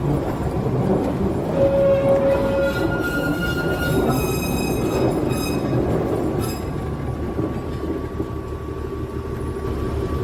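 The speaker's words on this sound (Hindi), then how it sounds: "ट्रेन अब बैक ले रही है। ट्रेन ट्रैक पर लिया है।" The Darjeeling Himalayan Railway train reverses along its track with a loud, continuous rumble of wheels and carriages. Faint high whining tones sound over it, and no one speaks.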